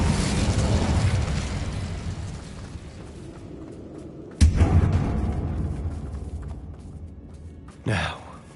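Fiery spell blasts in Hogwarts Legacy, with a strong burst at the start easing into a rumble, then a sudden loud whoosh midway and a shorter flare near the end.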